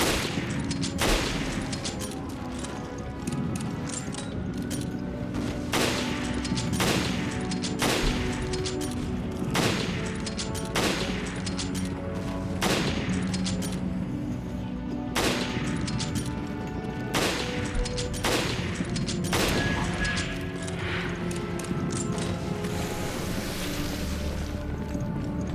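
Sniper rifle shots ring out in Resident Evil Revelations Abyss Raid Mode, about a dozen sharp cracks spaced a second or two apart over a steady bed of wind and surf.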